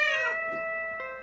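A cartoon space kitten gives a clear, bright meow with rich harmonics, held and slightly wavering over about a second, with a faint second chirp near the end; no talking.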